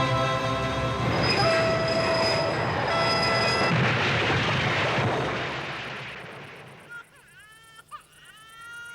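A train on a railway roars loudly past with heavy rumbling and high squealing tones, then fades away, leaving brief faint sounds and clanks near the end.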